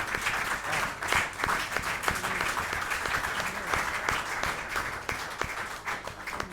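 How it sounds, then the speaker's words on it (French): Congregation applauding at a worship gathering, dense continuous clapping from a crowd that holds steady for several seconds, fairly distant and without spoken words. "Est-ce qu'on peut applaudir le Seigneur?"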